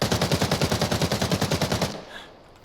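A rapid burst of automatic gunfire, evenly spaced shots rattling for about two seconds, then stopping abruptly and leaving a faint ringing tail.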